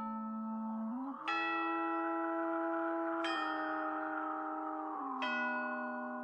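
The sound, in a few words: custom doorbell sound clip played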